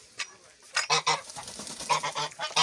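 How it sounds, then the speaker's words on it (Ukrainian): Domestic grey geese honk in a farmyard, giving a run of close, nasal calls in short bursts, some overlapping, against a quiet background. "сірі гуси мої"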